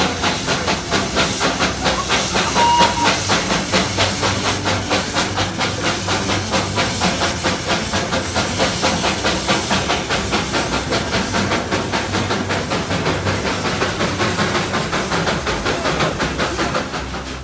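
The Darjeeling toy train, a narrow-gauge steam locomotive, hisses loudly and continuously at a station stop in the hills, a broad rushing jet of steam with a faint rhythmic pulse underneath, steady for the whole stretch before easing slightly.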